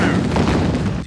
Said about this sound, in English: I'm taking heavy fire.